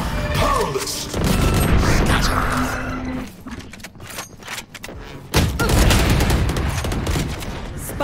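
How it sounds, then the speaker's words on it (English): Grenade explosion in the tactical shooter Valorant during a match on the Ascent map, a loud booming blast amid dense gunfire and game effects, with a brief lull before another loud burst. "I go in. Grenade."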